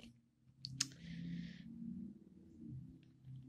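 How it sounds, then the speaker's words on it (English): Sharp tongue clicks made with the mouth, a couple of quick close snaps near the start over quiet low background murmur, faint and indoors. "I've been doing this weird clicking tongue noise thing"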